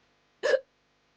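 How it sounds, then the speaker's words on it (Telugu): A single sharp hiccup from a woman, short and close, heard alone in an otherwise quiet room. "ఏమండి, ఎక్కిళ్ళు వస్తున్నాయండి"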